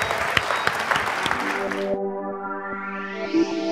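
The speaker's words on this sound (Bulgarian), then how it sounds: "Аплодисменти за Светлин" A Bulgarian audience applauds speaker Svetlin Nakov after his talk on regular expressions for QA engineers: close, steady clapping for about two seconds, then a sustained tonal music sting takes over.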